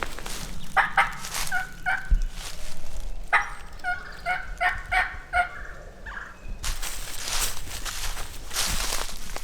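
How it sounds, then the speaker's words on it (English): A wild turkey gobbles repeatedly in rapid rattling bursts during a public-land hunt from a boat, loud and fairly near, with rustling movement and brief noise between calls. "That turkey's gobbling."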